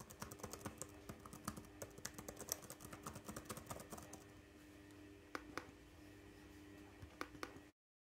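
Rapid, uneven clatter of keys on an Acer Chromebook Spin 311 laptop keyboard, close and quiet, with bursts of typing and brief pauses.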